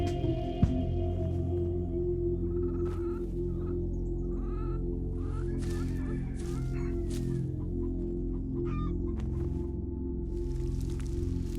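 Chickens in a farm coop give scattered low clucks and a few squawks over a constant low background hum, fairly faint and unhurried, with no voices.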